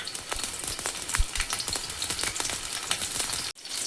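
Garlic and green chillies fry in hot oil, a close crackling sizzle full of quick spattering pops that runs steadily and cuts off sharply near the end.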